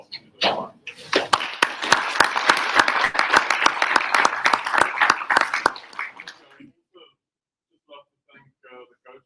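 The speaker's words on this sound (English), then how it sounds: "love to give you a hand of applause" A crowd at a South African under-20 ice hockey blazer ceremony claps for the team in a dense burst that fades after about six seconds, followed by a few brief spoken words.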